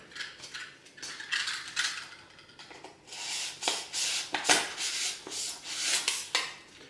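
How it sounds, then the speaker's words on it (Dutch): A hobby knife scrapes and cuts through a small block to make stairs for a miniature Christmas village, giving quiet, repeated rasping strokes close to the listener. "En nu gaan we dus de andere kant op snijden."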